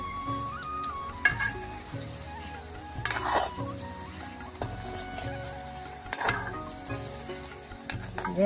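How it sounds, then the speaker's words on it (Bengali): Homemade cookie biscuits of flour and egg fry in oil over low heat with a steady close sizzle, broken by occasional light clinks and stirring noises from the pan. "তেলটা অল্প গরমে দিয়ে রান্না করি এরকম করে"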